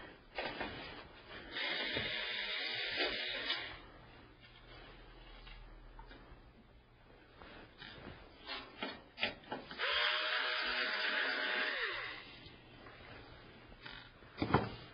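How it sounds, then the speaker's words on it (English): An electric screwdriver whirs in bursts while backing screws out of a computer case, with two longer runs separated by quieter handling and clicks, close and fairly loud. "use my electric screwdriver and take these screws off"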